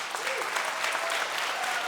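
A school-address audience breaks into a broad, steady round of applause for a departing board member, soft and diffuse, with faint voices under the clapping.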